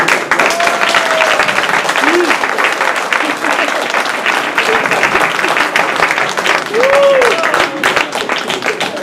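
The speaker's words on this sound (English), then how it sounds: "may I please have a very wonderful round of applause for my great dad, Chief Wanji Jima." A loud, sustained round of applause from a crowd at a young talents community contest, dense clapping running throughout with scattered cheers and voices mixed in.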